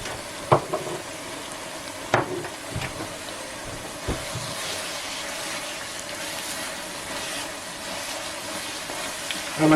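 Spinach and feta pie filling with salty feta and pepper sizzles steadily in a pan as it is stirred to cook off moisture, a close, continuous crackling hiss broken by a few sharp clicks of the spoon against the pan.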